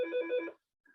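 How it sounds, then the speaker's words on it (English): A telephone rings in a single steady buzzing trill lasting about half a second, then stops, with a faint tone following after a short silence. "Oh, that's the phone ringing."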